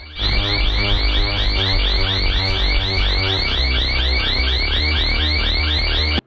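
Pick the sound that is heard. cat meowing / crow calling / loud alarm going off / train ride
loud alarm going off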